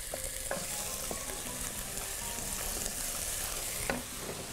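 Onion fries in hot oil in a pan, stirred with a wooden spoon, making a dense, steady close sizzle with occasional soft knocks of the spoon against the pan.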